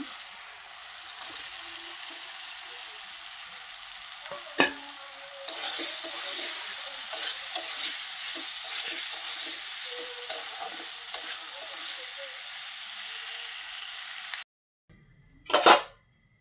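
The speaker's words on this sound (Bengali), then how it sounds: "এবার আমি সুন্দর মতো মশলাটা কষাই নিতেছি" Spice paste with potatoes frying for a soybean curry: a constant sizzle under repeated spatula stirring and scraping, a sharp knock near the middle, then a sudden cut to near silence and a final loud clatter.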